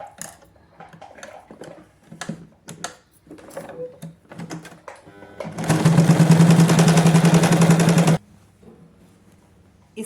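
A sewing machine runs in one steady, loud burst of about two and a half seconds, joining the crotch seam of a 6 to 7 year old girl's shorts. Quieter handling sounds come before and after it.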